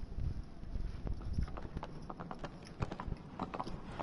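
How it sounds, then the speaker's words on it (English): Horse hooves clip-clopping in the video game Shadow of the Colossus, a steady walking rhythm of distinct, fairly quiet hoof strikes with faint mechanical game sounds in the background. "that horse sounds"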